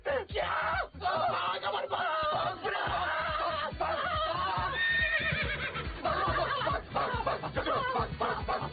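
A horse neighs and whinnies during a comedy film scene, with a drawn-out high call set among noisy action, bursts of laughter and people talking throughout.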